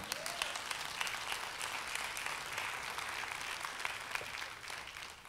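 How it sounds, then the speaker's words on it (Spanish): A church congregation claps in praise during a worship service, a dense, steady wash of many hands that carries on evenly for several seconds at a moderate distance. "dele palmas al Señor, se va a dar palmas"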